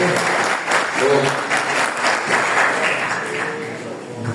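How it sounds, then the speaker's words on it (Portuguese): Church congregation applauding during a family worship service, dense steady clapping from a crowd at close range, with some voices mixed under it throughout. "Vamos dar uma salva de palmas para eles?"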